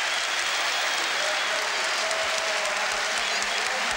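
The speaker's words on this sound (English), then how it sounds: "He gets applause from his manager and the bench and from the Tottenham fans as well." Football crowd applause at a 1987 Tottenham match, sustained, dense and loud, with the manager and bench joining in after a goal; the clapping fills the whole stretch as a steady roar of hands.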